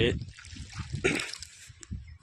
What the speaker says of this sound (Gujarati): જો પાણી ચાલુ છે હજી હવે આ ક્યારો તો ભરાશે નહીં